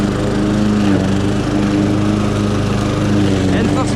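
A Honda HRX 537 lawn mower runs loud and close at a steady, unbroken drone for the full few seconds, its engine holding an even pitch as it cuts grass, with a voice faintly under the noise.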